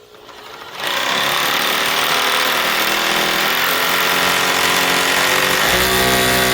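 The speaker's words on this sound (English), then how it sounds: "I just got a chisel bit and hang on to this thing." A power tool driving a chisel bit against a backhoe hydraulic cylinder during a rebuild, a loud steady rattling hammer that starts abruptly near the beginning and runs continuously.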